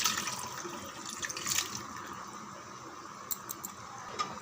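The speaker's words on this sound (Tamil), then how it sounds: "இங்கே பாருங்கள், ஒரு டம்ளர் தண்ணி மட்டும் விட்டுருக்கேன்." A tumbler of water poured into mutton kuzhambu with sautéed masala and mutton, a steady splashing pour for about two seconds that fades into quieter liquid sounds, with no talking.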